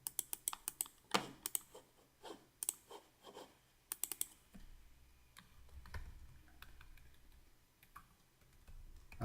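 Bursts of keystrokes on a computer keyboard, close and fairly loud in irregular rapid clusters, tapering into lighter scattered taps with a low background rumble and no talk.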